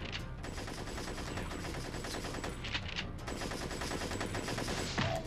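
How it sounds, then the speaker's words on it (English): Enemies in Spyro the Dragon keep firing in dense, continuous rapid gunfire-like bursts with a rattling rhythm at steady loudness throughout. "apparently these guys can shoot whenever they want"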